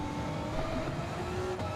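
Race car engine in a racing video game, a steady high revving drone with a slight dip and recovery near the end, loud and continuous without talk.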